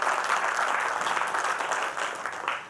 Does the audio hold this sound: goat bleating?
no